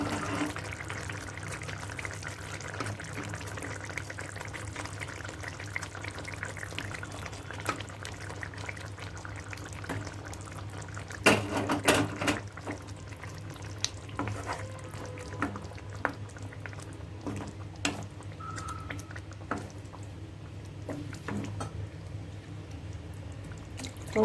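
Paneer cubes dropped into a red Kashmiri Wazwaan-style lal paneer gravy and left to cook, giving a soft steady bubbling and sizzling with a few brief clatters, heard alone and fairly close throughout.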